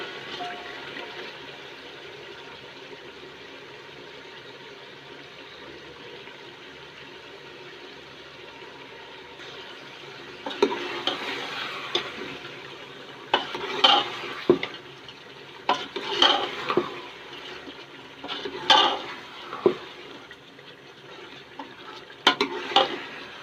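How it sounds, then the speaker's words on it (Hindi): Chicken feet frying in a pan for a curry, a steady low sizzle that grows livelier after the pieces go in, punctuated by several sharp stirring clatters of a utensil against the pan. "इसके बाद दोस्तों इसमें ये पंजे डाल रहा हूँ।"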